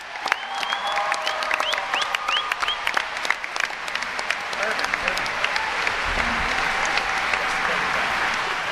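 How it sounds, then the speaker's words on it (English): Audience at a behind-the-scenes panel for The Office breaks into a sustained round of applause with cheers and whoops, steady and dense throughout, with voices shouting over the clapping. "Can we have a round of applause?"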